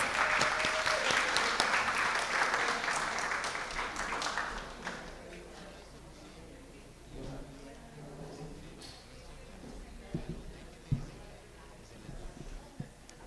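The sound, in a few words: audience applause for council member at a ceremony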